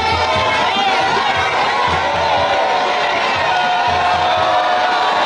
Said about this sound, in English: Vice President Amissah arrived to a rousing welcome from the jubilant crowd.